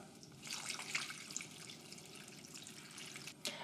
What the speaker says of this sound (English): Now we're going to add some water.